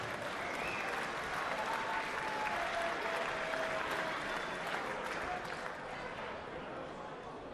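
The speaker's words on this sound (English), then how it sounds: "please give a real big round of applause for Raman Sukhaterin" Sustained, loud applause from a boxing match crowd fills the arena steadily for several seconds, with an announcer's voice over the clapping.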